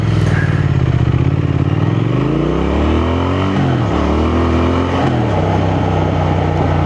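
A Triumph Thruxton 1200 motorcycle launches hard and accelerates, its engine loud and close, rising in pitch through the gears with a brief dip at a shift.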